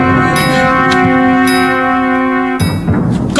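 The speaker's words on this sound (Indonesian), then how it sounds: "Gong!" A gong struck in a royal court scene rings out loud and sustained with a long shimmering tone, followed by a second strike near the end.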